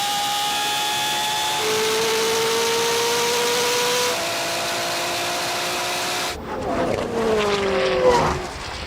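A Koenigsegg Jesko and a 1,000hp BMW M3 accelerate hard side by side in a drag race. A loud, high engine whine climbs through the gears, then a harsher, rougher roar takes over at the end.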